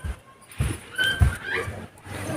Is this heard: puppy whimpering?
yes